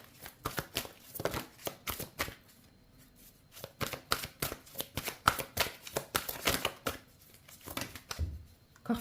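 Tarot cards shuffled and drawn by hand, a steady run of crisp riffling flicks and soft slaps close up, with brief pauses between bursts and no talking.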